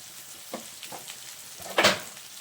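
Mixed vegetable chorchori, a wedding-style five-vegetable dish with fried spice mix and a little sugar, sizzles softly in a pan while being stirred, with scraping stirs and a louder crackling burst near the end.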